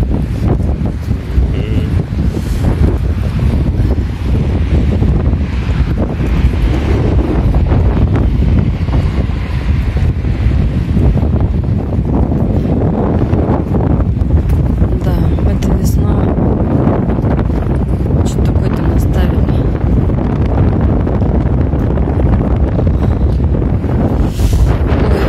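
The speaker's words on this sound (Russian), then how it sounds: "Ветер холодный." Cold outdoor wind in Anapa buffets the microphone with a constant, loud, rough rumble that lasts throughout, with people talking now and then.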